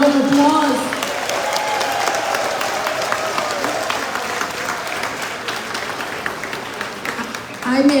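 An Orlando audience at a Guyanese diaspora gathering gives the President of Guyana another round of applause: many hands clapping steadily with a few cheers, while a voice briefly speaks near the start and the end.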